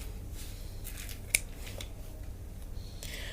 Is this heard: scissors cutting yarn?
yes